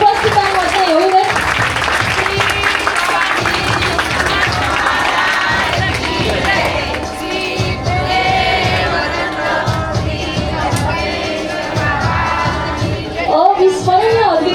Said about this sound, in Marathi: जोरदार टाळ्या उपस्थितांमध्ये येऊ दे.